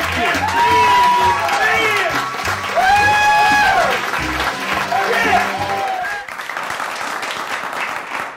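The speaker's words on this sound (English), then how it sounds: "A round of applause for Mr. Peter Lupus." Television studio audience applauding for Peter Lupus, loud clapping mixed with cheers and shouted voices, with music playing underneath, then fading into a thinner patter near the end.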